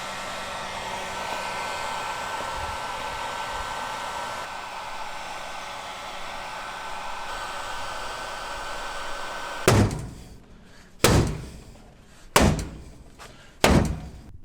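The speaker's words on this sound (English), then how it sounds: "heat gun" A heat gun blows a loud, steady roar while reshaping a pickup truck's damaged plastic rear bumper, then cuts off, followed by four separate heavy thuds at irregular intervals.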